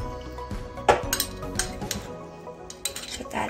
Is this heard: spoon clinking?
yes